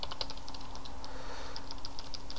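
Rapid computer keyboard typing while entering a command during Java game programming, a quick run of light, close key clicks with no talking.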